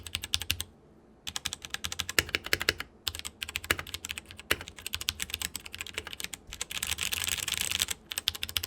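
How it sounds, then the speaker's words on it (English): Royal Kludge mechanical keyboard with brown switches being typed on, a steady stream of close, crisp key clacks with brief pauses and a faster burst of keystrokes near the end. "that was with brown switches, because that's what this keyboard comes with"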